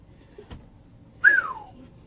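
A single short whistle, a bright falling note, follows a soft knock; otherwise quiet.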